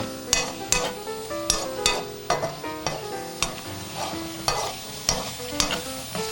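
Carrots frying in grease on a hot griddle while shrimp cooks nearby, a steady sizzle punctuated by regular sharp scraping and tapping strikes of a utensil stirring, close and fairly loud.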